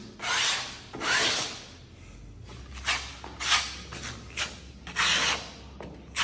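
A trowel knife burnishes venetian plaster on a wall in repeated scraping strokes, each a short rasping sweep, close and moderately loud with brief gaps between passes.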